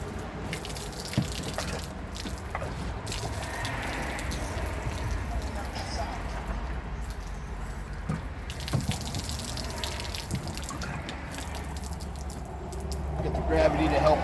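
A water jug being cleaned out in a van, with water pouring and gushing steadily from it for the whole stretch, close by, with a voice talking over it at times.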